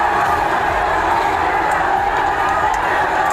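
Dense roar of a large armed crowd of youths with swords and sticks rioting in the street and chasing police, loud and continuous with shouting voices blended throughout.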